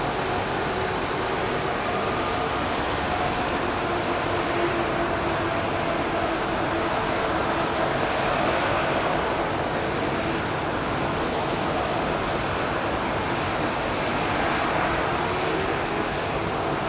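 Airbus A380 at London Heathrow Airport, a steady, broad jet roar that holds at an even level the whole time, heard from a distance with no voices.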